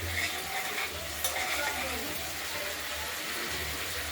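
Fish curry of live-cut rohu with potato and tomato sautéing in oil while being stirred, a steady close sizzle and frying hiss with scraping stirs, continuous throughout with a faint background hum.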